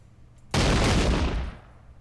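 A single massed musket volley from British Queen's Rangers troops in a Revolutionary War battle game at Brandywine Creek, one loud crackling roar that swells suddenly and rolls on for about a second before dying away.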